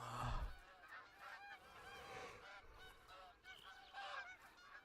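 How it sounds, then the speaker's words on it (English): Geese honking outdoors, a loose chorus of repeated nasal honks from several birds, fairly distant and faint against a low background rumble, with no talking. "I hear so many freaking birds."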